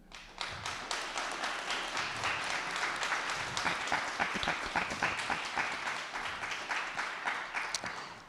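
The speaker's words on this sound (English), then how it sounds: "hope we could honor with a short round of applause here" A lecture audience at an evening event honoring a theology professor breaks into steady applause, dense overlapping claps sustained throughout at moderate distance with no talk over it.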